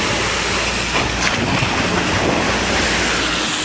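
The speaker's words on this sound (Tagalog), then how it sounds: "Oh, ang laki ng alon." Big monsoon waves on the open sea, a continuous rushing surf and wash with strong wind buffeting the microphone, heard from a small boat.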